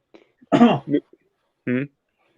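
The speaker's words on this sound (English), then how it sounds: "Sorry, I was coughing." Someone coughs twice in quick succession, then gives one more short cough after a brief pause. The coughs are close and otherwise alone.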